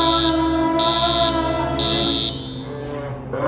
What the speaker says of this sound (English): Now I'm making an alarm go off to mess with you even more.